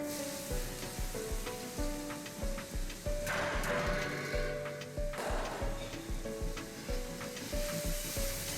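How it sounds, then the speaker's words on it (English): Chopped carrots and zucchini fry in warmed sunflower oil, giving a steady close sizzle with repeated clicks and taps of stirring and faint rhythmic ticking underneath. "After warming up, add chopped carrots and zucchini."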